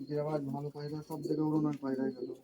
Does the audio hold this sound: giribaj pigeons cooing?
yes